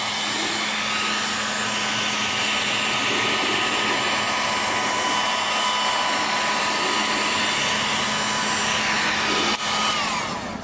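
A heat gun blowing hot air onto a Datsun 280Z tail light: a loud, steady, close whooshing blower roar that holds without a break, ending with a brief click, no voices.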